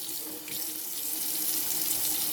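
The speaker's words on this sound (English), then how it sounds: "And you dip it under the water every couple of seconds to keep the outside wet." Tap water runs steadily into a sink as a chicken egg is washed beneath it, a continuous close rushing splash with no voices.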